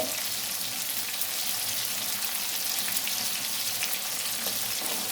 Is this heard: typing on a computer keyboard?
no